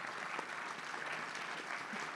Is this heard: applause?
yes